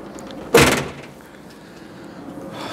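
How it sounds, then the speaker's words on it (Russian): An entrance door in a newly built apartment block is tried and does not open, giving one sharp rattling clunk followed by quiet room tone. "О, господи, даже дверь не открывается"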